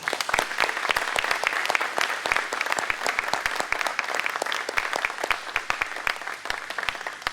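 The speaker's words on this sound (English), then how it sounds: "we'll give him a great round of applause for Charlie M. Duke" An audience at the North Carolina Aviation Museum Hall of Fame induction ceremony claps for an inductee: a sustained round of applause with distinct, sharp individual claps standing out in a fairly close, lively rhythm, no speech over it.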